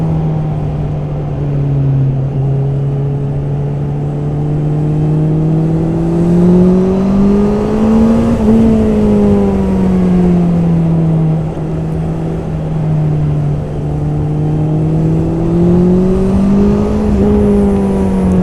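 A 2021 Honda CB650R motorcycle held in third gear on a race track, its engine droning loud and close with a steady high-pitched whine that rises and falls gently as the throttle eases and opens, with no talk.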